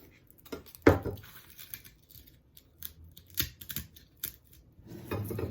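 Scissors snip through small Dollar Tree styrofoam pieces in a few crisp, separate cuts, with faint handling and rustling between them and no talking.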